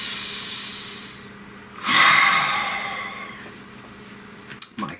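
One slow, deep breath, a long airy inhale that swells and fades, heard alone and close with soft room noise around it.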